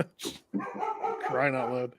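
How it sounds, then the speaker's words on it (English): A pet dog barks indoors: one short sharp bark, then a longer whining, yelping bark close up, with a person's voice talking over it. "Excuse my dog while she barks at nothing."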